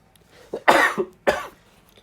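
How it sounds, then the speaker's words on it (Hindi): Two harsh coughs ring out close by, the first a double burst, the second single, with quiet between them. "यार खांसी बहुत आ रही है लगता है"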